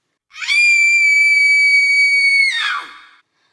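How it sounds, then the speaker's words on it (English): A long, high-pitched scream held steadily for about two seconds, loud and close, then breaking off with a brief ragged tail. "I let out an even longer and higher scream than Anne had"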